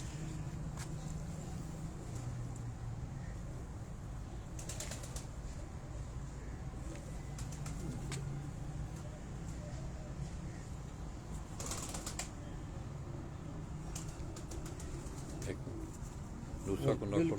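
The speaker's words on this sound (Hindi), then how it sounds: "ये अली वाली ब्रीड का ये कबूतर" Ali Wali breed pigeons at a Rawalpindi breeder's loft coo softly and keep on, with occasional brief wing flaps, while someone talks over them for most of the stretch.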